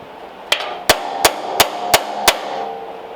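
A hammer strikes a punch driven into a rare Columbia two-speed rear bicycle hub, six sharp metallic blows at an even, quick pace, close and loud with no talking.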